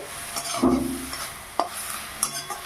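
Greens (shak) with peanuts are stirred and fried in a pan, with a couple of brief spatula scrapes and clacks over a soft, steady sizzle.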